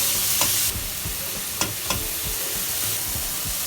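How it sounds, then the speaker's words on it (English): Tomatoes frying in a pan for black dal, a steady sizzle and hiss under scraping stir strokes and soft thuds from mashing, close and without speech. "Cook the tomatoes, mashing a bit as you go along."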